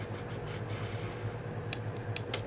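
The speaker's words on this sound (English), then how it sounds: "I am sorry for any other background noise you may hear. I do have a fan pointed at me" Steady low hum and broadband whoosh of an electric fan running in a room, constant and moderately close throughout, with a few faint higher clicks and tones on top.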